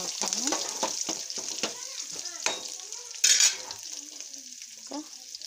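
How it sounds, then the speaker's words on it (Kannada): Garlic frying in hot oil, with a steady bright sizzle throughout and a utensil stirring and scraping against the pan in irregular strokes, close up, plus one brief louder hiss midway. "ಈಗ ಬೆಳ್ಳುಳ್ಳಿ ಹಾಕೊಂಡ್ರಿ. ಈಗ ಎಲ್ಲ ಎಣ್ಣೆ ಒಳಗೆ ಚೆಂದಾಗಿ ಫ್ರೈ ಮಾಡ್ಕೊಂಡು"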